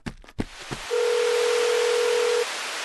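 A phone call rings unanswered in an animated Vietnamese folk-tale cartoon. A few clicks come first, then a loud, steady electronic ringing tone holds for over a second before dropping to low background hiss.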